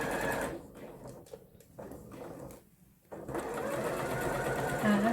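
A sewing machine runs in short bursts as it stitches a collar seam, a rapid mechanical whir that stops briefly in the middle and then resumes steadily and close, with no talk.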